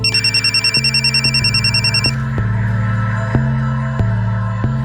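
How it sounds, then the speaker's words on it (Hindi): A mobile phone rings loudly and close with a repeating electronic tone, a rapid warbling pattern at first that gives way to evenly spaced beeps. "ये तो स्मिता का मोबाइल है।"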